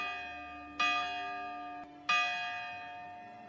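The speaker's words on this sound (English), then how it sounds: "or when a morning church bell rings" A church bell rings out twice in the morning, each strike clear and sustained with a long ringing decay, heard alone at moderate distance.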